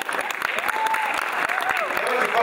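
One man claps in an odd, irregular way on stage at a KVN comedy league game, sharp separate claps under a crowd murmur and a few rising vocal tones.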